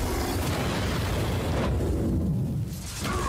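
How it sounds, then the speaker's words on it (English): Fire jaws bursting up out of the ground in the video game Lost Ark: a loud, sustained roaring eruption with a crackling burst that fades toward the end, with no talking. "A freaking fire jaws came out of the ground and chomp!"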